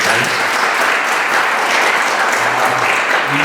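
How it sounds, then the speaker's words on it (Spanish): Loud, dense applause from a university lecture audience welcoming a guest speaker, many hands clapping continuously and evenly throughout, close and full, with a few murmured voices underneath. "Un aplauso para nuestro invitado."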